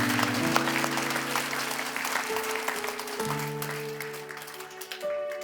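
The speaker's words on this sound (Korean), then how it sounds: "우리 하나님께 감사와 영광의 박수를 드리기 원합니다." Congregation at a Korean church healing service applauding in a steady, sustained wash of clapping, with held keyboard chords sounding underneath throughout.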